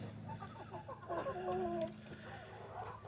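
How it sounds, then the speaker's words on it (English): Chickens cluck nearby in a coop, with a few short chattering clucks and a brief drawn-out squawk over faint low background noise. "Chickens aren't the smartest"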